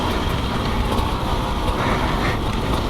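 A 2020 Beta 300RR Race Edition and a 2020 Sherco 300 SE Factory dirt bike ride a trail together. A dense, steady roar of engine and wind sounds from the rider's own position, without a break.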